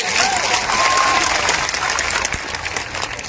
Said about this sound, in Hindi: एक बार जोरदार ताली बता दी तो इनके लिए बता दी